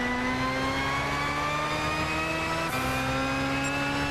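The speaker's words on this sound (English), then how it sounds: "Just listen to that turbo, it sounds so nice." Honda turbocharged car engine in Gran Turismo 6 holding a steady loud drone with layered harmonic whine, a brief gear shift dip partway through, then continuing at high revs with no talking.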